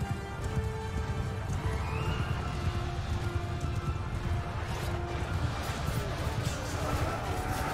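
Cavalry horses galloping into battle in the video game Mount and Blade 2: Bannerlord, loud continuous hoofbeats mixed with neighing and whinnying, with the clatter of combat layered over it.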